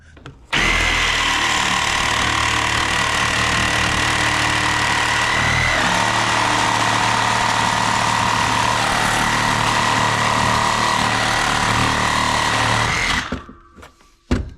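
A power saw fitted with carbide blades cuts through copper pipe, a loud, steady whining drone that holds for about thirteen seconds before cutting off abruptly, close to the listener with no talk over it.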